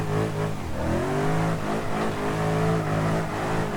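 A car drifting in BeamNG.drive holds a loud, continuous engine drone that rises and falls with throttle, its tone wavering through the slide, alone and up close.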